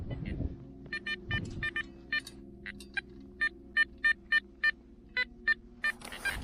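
Garrett Ace Apex metal detector beeping during a winter dig, a series of short, high electronic tones in quick repeated pulses, fairly loud against low background rumble.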